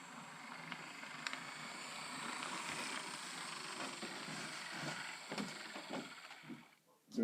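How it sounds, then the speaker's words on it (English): A steady, droning motor hum from an Athearn SD40-2 model locomotive runs continuously with occasional small clicks and bumps, fading out near the end. "To me, it sounds like a revving motor."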